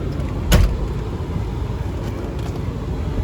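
Door of a Lincoln Town Car shutting with a single solid thump, near and fairly loud, over a steady background hum of the running car and air conditioning.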